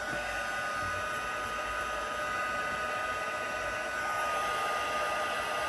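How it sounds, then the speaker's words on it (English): A heat gun pre-warms for embossing powder on a handmade Christmas card, a steady, unbroken airy blowing roar that holds at a constant moderate level throughout, close and without any talk. "I'll use my heat gun. I'm just pre-warming that."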